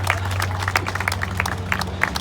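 Audience clapping at a mayoral ceremony naming an overpass, a steady patter of hands filling the room with a low hum underneath.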